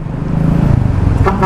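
A truck horn honks loudly in heavy highway traffic in Bulacan, close by over a steady engine and road rumble, with a short toot near the end.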